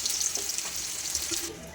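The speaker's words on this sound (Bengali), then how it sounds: "এই তেলের মধ্যে আলুগুলোকে আমি ভালো করে লাল লাল করে ভেজে নেব" Potato pieces fry in hot oil for aloo dum, a steady close sizzle that runs without a break and carries no talk.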